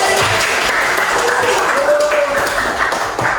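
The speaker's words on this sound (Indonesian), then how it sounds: "Oke, tepuk tangan." A classroom group claps in a loud, continuous patter of applause, with a few faint ringing tones and some voices under it.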